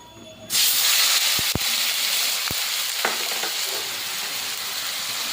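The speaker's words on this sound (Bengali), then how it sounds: "এবার মশলাটাকে একটু কষিয়ে নেব" Spices and tomato paste hit hot mustard oil in a pan and burst into a loud, steady sizzle, broken by a few sharp metallic knocks of a stirring spoon.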